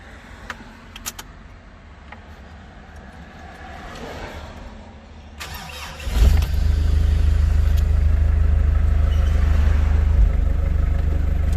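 A stuck car on a roadside sits quietly with faint clicks and rustles, then its engine roars up and settles into a loud, steady running drone close by as the car creeps forward, with no talking.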